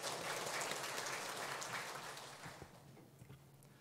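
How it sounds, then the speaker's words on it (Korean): Church congregation applauding during a Korean afternoon praise service, a dense wash of clapping that fills the room and gradually thins toward the end. "이 자리에 주님께 영광의 박수 올려드리겠습니다."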